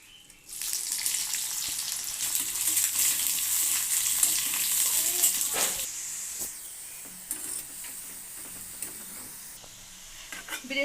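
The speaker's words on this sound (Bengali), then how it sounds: "একটু সরিষার তেল দিয়ে পেঁয়াজের বেরেস্তা বানিয়ে নেব ফোড়ন দেওয়ার জন্য।" Onions frying in mustard oil until crisp for a tempering, a steady loud bright hiss and sizzle that holds close and fills the whole stretch, with occasional stirring clicks as it settles slightly.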